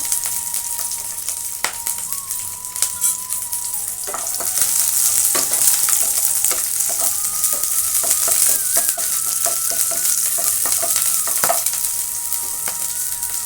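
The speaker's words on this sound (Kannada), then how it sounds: "ಅದೇ ಕಡಾಯಿಗೆ ನಾನು ಹಸಿಮೆಣಸಿನ್ಕಾಯಿ ಹಾಕ್ತಾಯಿದ್ದೀನಿ." Green chillies, ginger and garlic frying in oil in a kadai for paneer butter masala, giving a steady, close, continuous sizzle with occasional stirring scrapes throughout.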